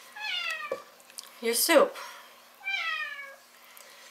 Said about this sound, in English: I guess the cat likes her soup.